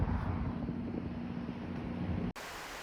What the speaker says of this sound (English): a beautiful waterfall here just outside of